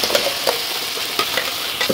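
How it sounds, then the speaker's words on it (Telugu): Tomato puree cooks over high flame in a frying pan for veg macaroni pasta, a loud steady sizzle broken by several sharp scraping stirs of a spoon at irregular intervals. "ఈ విధంగా హై ఫ్లేమ్ మీద దగ్గరుండి కలుపుకోండి"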